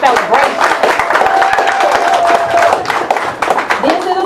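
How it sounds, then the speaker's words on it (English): Audience applause at the reveal of the All Things Are Possible exhibit: a crowd claps steadily for about four seconds, mixed with a voice speaking over it. "let's clap it up for Chip one good time"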